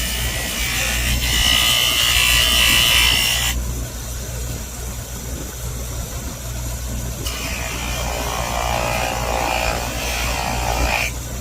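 Powered buffing wheel working a Kydex plastic sheath with buffing compound, a steady loud whirring grind whose pitch and load shift as pressure changes, with no talking.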